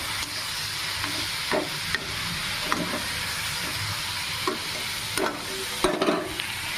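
Masala for egg curry fries in a pan with a steady, fairly loud sizzle, broken by regular scraping stirs of a spatula against the metal.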